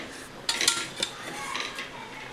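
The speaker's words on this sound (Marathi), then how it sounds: "आता खाली तवा ठेवला आहे आणि तव्यावर हे पातेलं ठेवले." A metal cooking pot clanks down onto a metal griddle on a stove, a couple of short scraping knocks close by, then a quiet background hiss.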